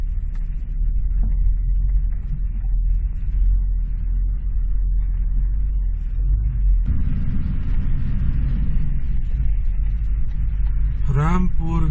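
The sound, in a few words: car reversing on mountain road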